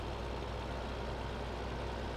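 A tractor engine in the Farming Simulator 15 video game runs with a steady low diesel hum and rumble, constant and close with no voices.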